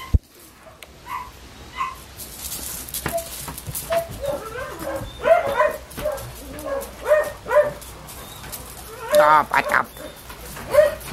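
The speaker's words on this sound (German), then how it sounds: "Weil du auch ein großer Hund bist" Large dog whimpering, whining and giving short yips and barks, closely recorded outdoors, with bursts of varied vocalizations throughout and a person talking softly in between.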